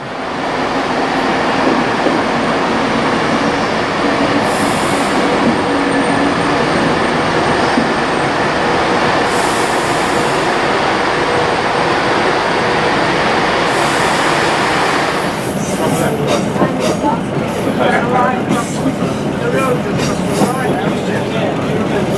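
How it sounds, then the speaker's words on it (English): A Pendolino passenger train passes heading south: loud, close rumbling roar that stays strong throughout, with rail clatter and brighter wheel noise rising in the latter part. "there's another Pendolino here heading south"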